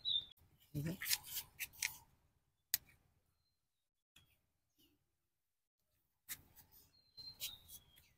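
Scissors snip ripe Khaibar F1 tomatoes off a rooftop plant in the morning, giving a few sharp close clicks and cuts in short bursts separated by quiet gaps.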